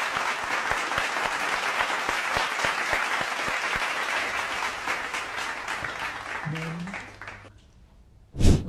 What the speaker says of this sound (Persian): صدای تشویق. بزن.